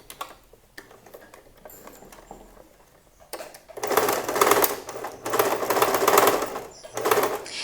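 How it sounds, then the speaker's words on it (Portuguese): A sewing machine stitches a back pocket on dress trousers, a quiet stretch of handling followed by two close bursts of rapid needle rattle with a brief pause between them. "agora a gente vai pra máquina de costura e vai passar uma costura exatamente aqui"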